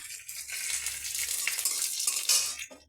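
Food fries in oil in a pan, a steady bright sizzle and crackle close by, with a few soft stirring scrapes and no talking.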